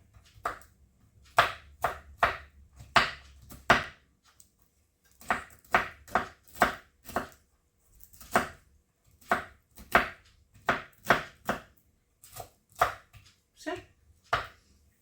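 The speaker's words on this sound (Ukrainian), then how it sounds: "Просто дрібнішенько їх нарізаю." Quick, rhythmic knife chops on a cutting board, finely chopping salad ingredients, coming in steady bursts with short pauses, close and crisp.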